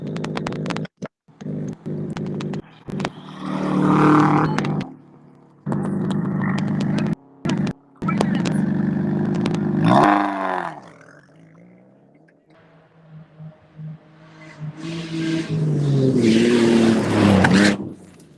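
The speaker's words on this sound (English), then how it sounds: "Car coming." A rally car races past at a North East Pennsylvania rally sprint, its engine roaring loudly in bursts with a pitch sweep as it passes, then fading before another surge of engine noise builds again near the end.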